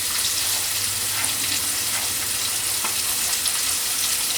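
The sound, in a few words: fish fillet pieces frying in a hot skillet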